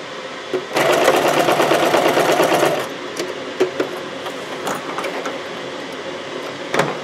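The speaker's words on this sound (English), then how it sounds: "you're just going to do a regular 5/8 inch seam all the way down the edge." Sewing machine stitching a regular 5/8 inch seam along the sleeve facing of a puffed cosplay sleeve, a steady, close whir for about two seconds, then quiet handling taps.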